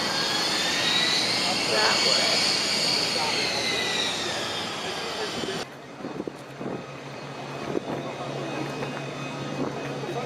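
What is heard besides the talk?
Fouga Magister French first-generation jet aircraft flying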